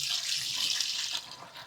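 Tap water runs steadily over ingredients being washed in a kitchen, a close continuous hissing splash that shifts slightly as the stream is disturbed.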